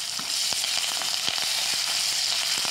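Onion fries in a pan with turmeric and chili powder for a savory wheat-flour breakfast dish, a steady close sizzle with scattered faint scraping clicks from stirring, and no voices.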